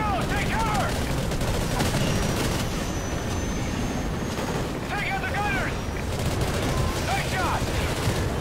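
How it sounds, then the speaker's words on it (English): Dense, continuous gunfire and explosions fill a Call of Duty: Ghosts battle, with rapid automatic bursts layered over booming blasts and chirping effects, loud and unbroken, with voices talking underneath. "I think that might be enemy fire."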